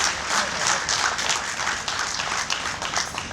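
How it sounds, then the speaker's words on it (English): Sustained applause from a large crowd at a tribute awards dinner, a dense steady patter of many hands clapping that holds at an even level throughout. "Let's give him another round of applause"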